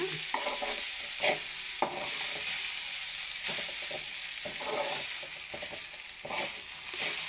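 Soaked flattened rice (aval) being stirred in a pan for upma, soft sizzling under intermittent scraping strokes of a spoon against the pan, close but fairly quiet, no talking.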